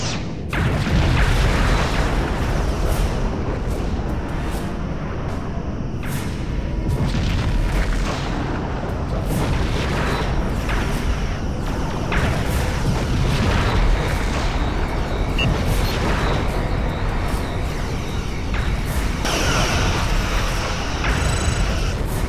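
A Borg vessel blowing apart in the space combat game Star Trek Legacy, a sustained loud roar of rumbling booms and crackling blasts that fills the whole stretch without pause.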